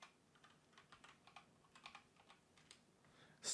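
Rapid, uneven typing on a computer keyboard, faint and close, soft clicks in quick clusters with a sharper keystroke at the end.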